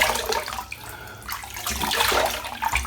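Water splashing and sloshing as a face is wet before a wet shave, with irregular close-up bursts of splashing and dripping, no talking.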